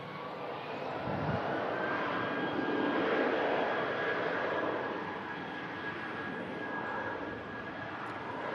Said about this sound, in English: Another British Airways shuttle service taking passengers back down to London Heathrow